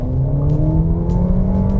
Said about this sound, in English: Let's merge into traffic here and see how the power is. Full throttle.